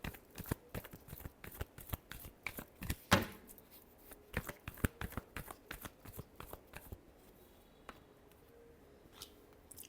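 Tarot cards being shuffled by hand, a long run of crisp, rapid riffling flicks and soft slaps close up, busy at first and thinning out toward the end, with no talking.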